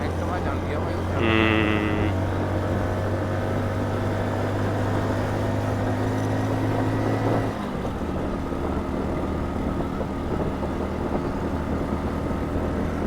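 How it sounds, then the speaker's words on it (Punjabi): A Honda Activa scooter grinds up a steep mountain road on the way to Govindghat, its engine a steady close drone that runs throughout, with a brief higher whine early on and voices talking over it. "ਲੈ ਵੀ ਮੂਰੇ ਆਪਣੇ ਐਕਟਿਵਾ ਚੜਦੀ ਚੜਾਈ"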